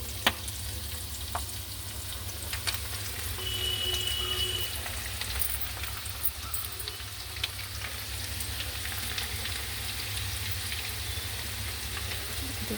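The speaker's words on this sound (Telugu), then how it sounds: "ఇక ఇప్పుడు పకోడీ వేస్తాను." Pakodi fritters frying in oil, a soft continuous bubbling sizzle with occasional small crackles, fairly quiet and steady with no talk.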